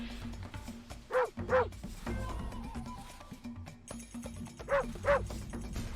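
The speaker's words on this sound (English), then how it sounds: "I don't like that bark noise" Dog barks in the strategy game Impossible Creatures: two paired yelping barks early, then a mechanical tone and chirping, then two more sharp, slightly clipped barks over a steady game hum and background effects.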